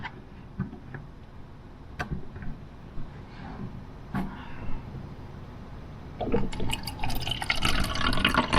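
Water pours into a camp cooking pot, beginning as scattered faint ticks and drips, then turning into a louder, steady splashing stream near the end, close by.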